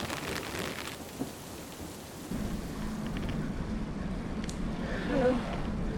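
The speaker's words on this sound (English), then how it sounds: "The rain is picking up." Steady heavy rain pours down, a constant wash of sound with a faint voice near the end.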